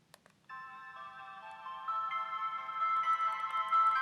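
A Land Rover S23 push-button phone plays its ringtone melody, a bright electronic tune that starts after a few clicks and gradually grows louder, with no voices over it.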